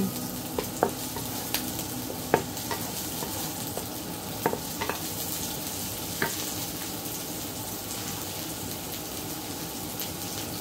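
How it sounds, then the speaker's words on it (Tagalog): Ground meat stir-frying in a pan, a steady close sizzle with occasional sharp clinks and scrapes of a utensil against the pan, no speech. "lagay na natin yung ating giniling"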